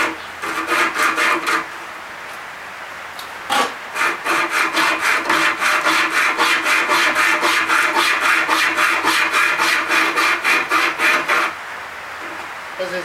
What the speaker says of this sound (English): Clamp down the wood, take it a wee grind.